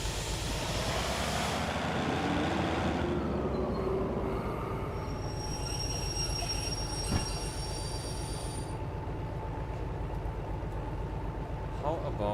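Rail-yard shunting in a train video game: a continuous heavy rumble of rolling wagons, with a rising wheel squeal and faint high metallic tones, loud and steady throughout.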